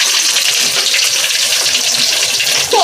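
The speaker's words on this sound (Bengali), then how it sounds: "ওই বালতিতে রোদে জল দিলাম স্নান করানোর জন্য" Water gushes steadily into a bucket set out in the sun for a child's bath, a loud, close, continuous splashing pour with no talking.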